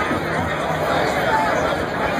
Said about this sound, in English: how's this for a crowd for the 31st annual River Riders MC Toy Run